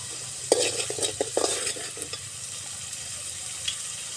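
Masala frying in oil over a wood stove sizzles steadily while a spoon stirs it in a quick cluster of scraping strokes early on, then fewer, near and moderately quiet with no voices.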